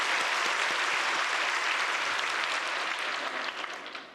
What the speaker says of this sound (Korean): 아이들 사랑한다고 한번 박수로 격려해 볼까요?